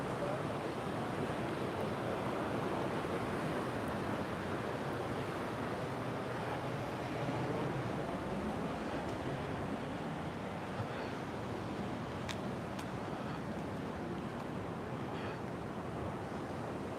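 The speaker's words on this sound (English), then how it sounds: "Some good waves today." Ocean surf keeps breaking on the shore at La Caleta, a steady broad wash of waves with some wind rumble, loud and continuous with no pauses.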